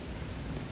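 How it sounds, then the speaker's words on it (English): Rain falling at night near an illuminated bridge in Banja Luka, a steady dense hiss of drops without pauses, moderately loud and close, no voices. "now it's raining"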